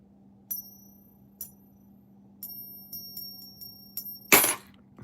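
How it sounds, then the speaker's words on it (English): A silver half dollar coin dropped and struck repeatedly, giving a series of sharp, high ringing metallic pings spaced about a second apart and ending in a louder clattering hit, close and clear with no voices. "that's what it sounds like when you drop it"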